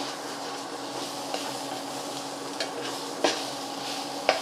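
Garlic and ginger fry with caramelized onions for a fish curry, a moderate steady sizzle broken by occasional utensil knocks and stirring scrapes, with no one speaking.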